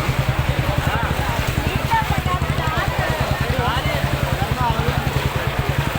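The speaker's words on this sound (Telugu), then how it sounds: "అదిగో మా వెళ్తుంది మన ట్రాక్టర్" A tractor engine chugs with a rapid, steady pulse as floodwater churns and gurgles around it at Singnagar, Vijayawada, with faint voices in the background.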